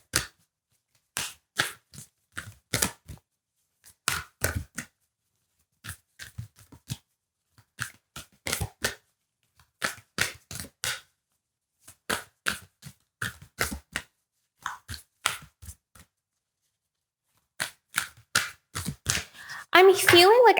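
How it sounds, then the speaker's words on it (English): Tarot cards being shuffled by hand in short bursts of crisp riffling and slapping, repeated a dozen or more times with brief silences between, close and clear. "as I'm shuffling the cards"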